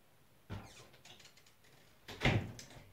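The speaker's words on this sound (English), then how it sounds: "let me go and close the door" A house door is pushed shut with a soft first bump, then a louder close thud about a second and a half later, faint and somewhat distant in a quiet room.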